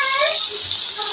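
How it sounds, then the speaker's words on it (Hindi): Split moong dal lentils with husks are rubbed and rinsed by hand in a bowl of water, giving a brief, continuous close-up swish and splash of moving water. "ये जो दाल है इसको साफ करके और पानी में ऐसे मल के और इसको साफ कर ले"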